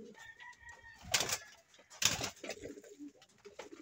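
Pigeons kept by a fancier coo softly in a loft, with two sharp bursts of flapping or scuffling breaking through the low, murmuring calls.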